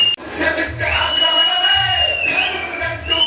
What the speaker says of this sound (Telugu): ఒకసారి అందరు గట్టిగా చప్పట్లు కొడుతూ ఉంటే హీరో గారు వస్తూ ఉన్నారు